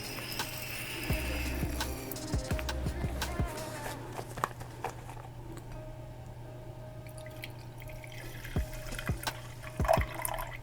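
Distilled water pours into a container for a homemade lavender facial mist, with intermittent trickling and drips, light knocks and handling sounds, and a voice speaking at times.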